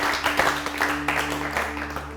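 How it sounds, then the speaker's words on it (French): A TV cooking competition audience applauds as a two-Michelin-star chef from the Auberge du Cheval Blanc walks in. The clapping is steady and moderate, mixed with a low background hum and faint voices. "Merci d'accueillir et d'applaudir Pascal Bastian"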